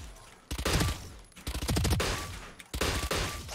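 Gunfire in the video game Valorant comes in three loud, close bursts of rapid automatic shots separated by short pauses.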